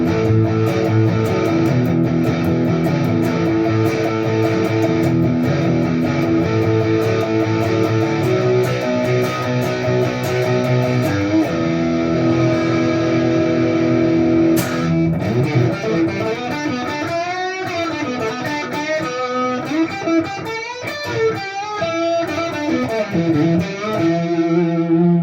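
An electric guitar played through a Boss DS-1 distortion pedal on a modified Chibson Slash signature model, heavily overdriven and sustained, with chords ringing throughout before shifting into bending, wavering lead notes.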